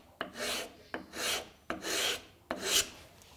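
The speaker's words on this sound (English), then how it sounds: "I could just take a few strokes to sand that out" Hand sanding of a wooden edge at a 45-degree angle, four even rasping strokes, each opening with a small knock and then a rough scrape, heard close and clear.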